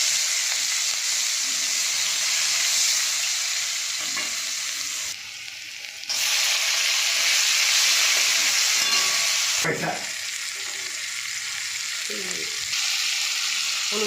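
Onion frying in hot oil that was used for fish, a loud, steady sizzling hiss with two brief dips where the sizzle drops away before it resumes.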